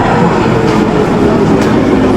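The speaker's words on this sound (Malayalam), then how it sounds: "ഞാൻ മെട്രോയിൽ കയറി UN-ലോട്ട് പോവാണ്." Vienna metro train heard from inside a carriage on a ride toward the UN stop on the U3 line: a steady, loud rumble of wheels and motor with faint rhythmic rail clatter throughout.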